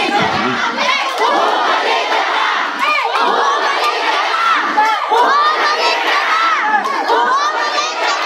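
A large crowd at a political rally in the Pandacan district of Manila shouts and cheers continuously, a loud dense roar of many voices with overlapping cries and chants throughout.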